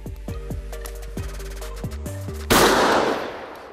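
A single loud gunshot rings out during a night beaver hunt and decays in a long echo, preceded by a few tonal, voice-like sounds.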